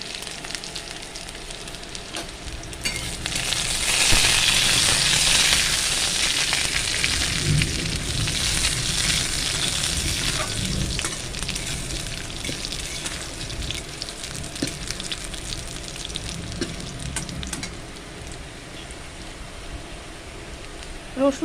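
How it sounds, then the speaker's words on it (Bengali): Nigella seeds, broken dried red chilies and chopped garlic hit hot oil in a pan, setting off a loud, continuous crackling sizzle that swells early, then settles into a steady hiss with faint stirring. "তেল গরম হয়ে গেছে, দেব কালো জিরে, দেব ফাটানো শুকনো লঙ্কা, দেব 6-7 কোয়া রসুন কুচি"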